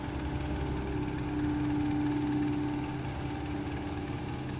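Hitachi ZX130 5G excavator, about 13 tons, engine running at a steady drone with a low hum and faint vibration while it loads soil into a dump truck, one tone briefly rising mid-clip.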